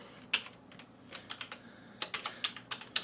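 Computer keyboard keys clatter in quick uneven bursts, close and fairly quiet, as someone types up a lock code on a lock code website with short pauses between runs of keystrokes.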